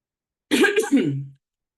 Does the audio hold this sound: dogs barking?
no